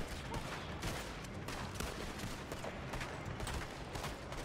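Gunfire in the Western video game Red Dead Redemption 2 comes as a dense, loud run of overlapping shots and blasts that fills the whole stretch with barely a pause.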